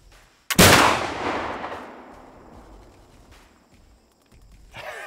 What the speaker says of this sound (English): That's pretty good for shooting offhand with a flintlock.